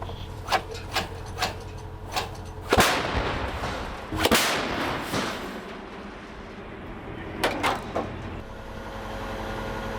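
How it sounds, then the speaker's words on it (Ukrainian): Sharp, booming gunshots go off a few seconds apart during a trench assault in combat, the loudest followed by a rolling rumble, with smaller cracks scattered around them. "Постріл!"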